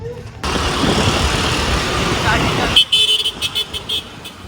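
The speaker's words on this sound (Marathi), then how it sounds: "हा मागचा टॅक्सीवाला कंटिन्यू एवढा हॉर्न मारतोय" A taxi behind honks its horn in short repeated bursts in heavy night traffic around 11 pm, after a stretch of loud engine and road rumble, with people talking nearby.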